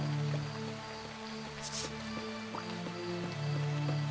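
Starbound's in-game rain makes a continuous light patter with scattered drips over a sustained background tone, with a brief hiss partway through and nobody speaking.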